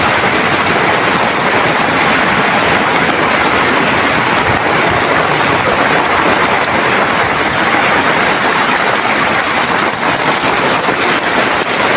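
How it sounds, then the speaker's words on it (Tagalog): Heavy rain pours without a break, a loud, dense hiss of drops hammering surfaces close by, with no voices. "Hindi pa rin tumitigil ang ulan."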